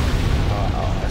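Explosion in Demon's Souls, a deep booming rumble sustained throughout at steady loudness, with speech-like murmur mixed in underneath.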